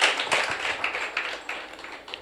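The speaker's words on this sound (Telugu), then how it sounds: "చప్పట్లు కొట్టు." An audience at a church message for students clapping, a quick dense patter of hand claps close by and continuing throughout the short clip.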